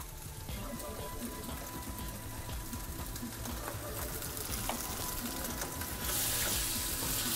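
Spiced Bombay potatoes frying in oil over turned-up heat, giving a steady, even sizzle that grows slightly louder near the end.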